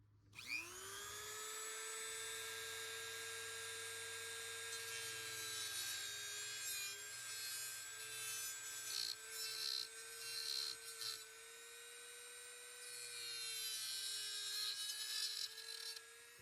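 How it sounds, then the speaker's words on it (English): A Dremel rotary tool cutting a plastic gel blaster part, a loud, steady high-pitched whine that dips in pitch as the bit bites into the plastic, with a faint spin-down near the end. "So I got my Dremel. Might get a little loud."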